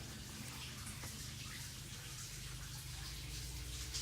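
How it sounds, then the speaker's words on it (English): Steady, continuous rush of flowing water at Hailes Abbey, a constant broadband wash that holds evenly throughout with no voices. "The water's still flowing."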